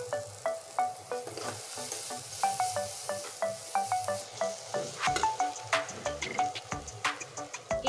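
Spices with coriander powder and turmeric fry in a pan, a close sizzle broken by repeated scraping stir strokes in an uneven rhythm, with no voices.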